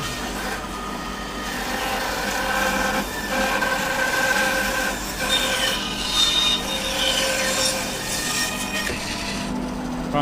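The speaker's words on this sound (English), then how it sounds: "I can really just cut a face parallel to that" A saw cuts a flat face on a half log of wood, producing a loud, continuous rasping and grinding that holds steady with slight swells and brief dips.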